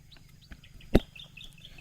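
A chicken clucks outdoors near a pumpboat, a few short calls with one loud, sharp cluck standing out among quieter chirps.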